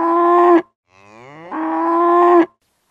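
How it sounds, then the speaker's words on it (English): A cow moos twice, loud and close: a long steady low bellow, then a rising call swelling into a second sustained moo, with silence around it. "A cow bellows."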